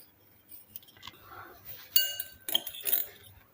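A spoon clinks against a bowl while crushed garlic and salt are stirred together, with a few sharp metallic taps and scrapes spread over a few seconds and faint background noise.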